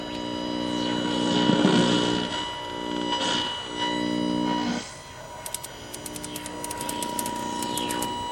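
High-voltage arcing inside a Trutone color roundie TV, a steady electrical buzz and hum with a high whine, then a run of sharp crackling snaps toward the end.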